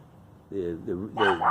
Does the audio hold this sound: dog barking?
yes